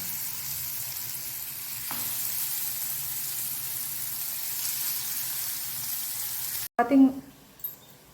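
Raw banana slices fry on a hot tawa with a steady close sizzle, followed by a sharp burst of louder spitting as a fresh batch goes onto the pan, with a voice speaking briefly.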